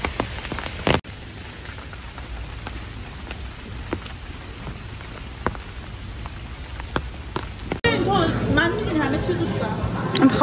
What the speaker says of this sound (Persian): خدایی بارون که میخواد قطع بشه